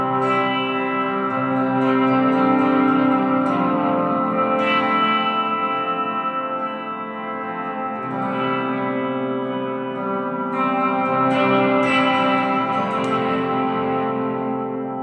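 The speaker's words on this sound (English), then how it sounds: "Now the reverb time to 3 o'clock." Sustained guitar chords washed through an Electro Harmonix Cathedral reverb pedal set to a long reverb time, with dense shimmering tails that swell and blend between strums, loud and clean without talk.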